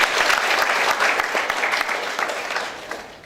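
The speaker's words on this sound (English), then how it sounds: "Give her a big round of applause." An audience at a motivational talk at a management institute claps in a dense, loud round of applause that gradually tapers off toward the end, with no speech over it.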